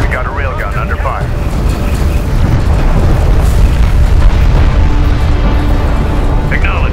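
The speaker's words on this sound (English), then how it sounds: "Enemy railgun firing on friendly." Railgun fire and explosions boom in the strategy game Homeworld: Deserts of Kharak, a loud dense battle roar of blasts and rumble with voices speaking over the din.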